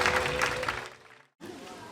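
Audience applause at a Chungcheongbuk-do arts award ceremony: dense clapping that fades out, a brief silence, then a quieter burst of applause resumes.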